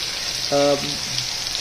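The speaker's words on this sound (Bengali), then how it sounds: "হলুদ মরিচ লাগিয়ে তারপরে ভাজার জন্য এগুলো রেডি করেছি এবং ভাজতেছি" Food rubbed with turmeric and chili frying in a pan gives a steady broad sizzle throughout, with a brief tonal clatter from a utensil partway through.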